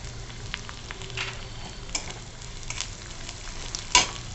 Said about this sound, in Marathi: आता छान करतो फोडणी खमंग करून घ्यायची